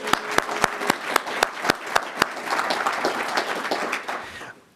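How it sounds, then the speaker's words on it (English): A crowd applauds town supervisor Tony LaFountain at the 2020 Penfield swearing-in ceremony. It opens with a few distinct separate claps that build into a steady, full round of applause, which fades out near the end. "Round of applause for Tony"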